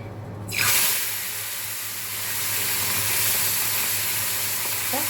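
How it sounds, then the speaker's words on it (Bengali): Mola fish dropped into hot oil set off a sudden loud hiss that settles into a steady, close sizzle and continues unbroken. "তেল গরম হয়ে গেছে, এবার আমরা মোরলা মাছটা প্রথম ভেজে মোরলা মাছটাকে ছাড়"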